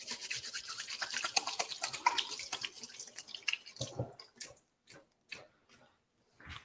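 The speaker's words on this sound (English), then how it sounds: "I'm just going to give my hands a quick rinse." Hands are rinsed under a running kitchen tap while making Halloween treats: a steady close splash of water for about four seconds, then the flow stops and scattered drips and small clinks follow.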